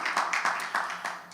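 A small audience claps in a short, scattered burst of about six distinct claps spread over a second, fairly close and moderately loud, with no speech over it.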